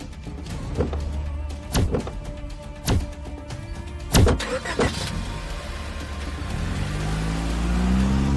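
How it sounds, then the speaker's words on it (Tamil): Several heavy car-door thunks and clicks come first, then the car's engine starts and its hum rises steadily as it pulls away, with no voices. "டிரைவர் வண்டி எடு."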